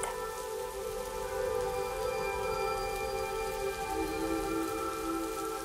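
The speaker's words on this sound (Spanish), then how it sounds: "La lluvia caía con fuerza" Heavy rain pours steadily during a strong storm at Garcitas by the Orinoco River in Colombia, a dense continuous hiss with a few faint steady tones running beneath it.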